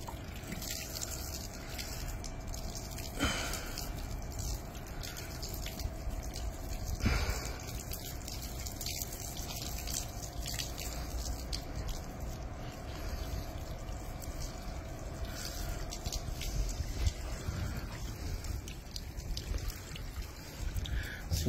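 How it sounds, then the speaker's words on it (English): Water runs and trickles off a car being dried with a flow of water instead of a towel, a steady close gushing wash that keeps going throughout with a few sharper splashes. "I'm going to dry it with water now,"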